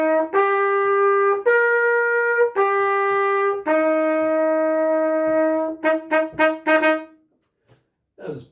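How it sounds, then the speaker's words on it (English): A trumpet plays a do-mi-so-mi-do triad in long held semibreves, each note sustained and separated by short breaths, followed by a quick burst of shorter notes and then a brief voice at the end. "Then you have the triad in semi-breves."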